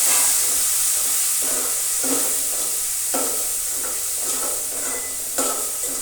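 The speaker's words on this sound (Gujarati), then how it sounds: "અને હવે ટમેટાં અને મરચાં છે તો તે પણ આપણે નાખી દઈશું." Chopped tomatoes and chillies tipped into a hot pan for Gujarati kadhi with rotli, sending up a steady hiss of steam and sizzle, broken by a few short stirring scrapes, with no voices.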